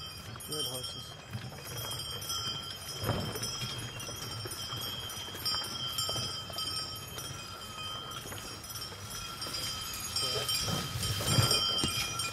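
Draft horses work at logging on a farm woodland road, with a low rumble of movement and occasional soft thuds of hooves and gear, while people talk and call out to the team now and then.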